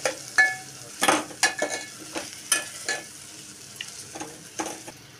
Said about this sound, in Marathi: आता मी टाकते त्याच्यामध्ये आलं लसूण पेस्ट